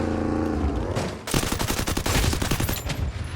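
Rapid bursts of gunfire in the Free Fire battle royale game, a loud sustained volley of quick repeated shots following a brief rumble, with no talk over it.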